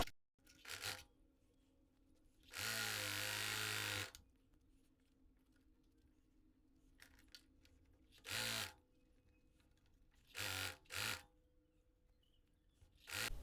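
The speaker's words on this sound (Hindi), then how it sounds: "अब इसको कवर करके सिलेंगे।" A domestic sewing machine stitches a folded fabric strip for an Anarkali kurti flare. It runs in short bursts: one longer run of about a second and a half, then several brief ones, close and clear with quiet pauses between.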